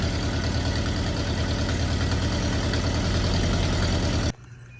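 An old bus engine idles with a leak in the exhaust, a loud, steady low throbbing rumble with a rapid pulsing beat, heard close up before cutting off abruptly near the end.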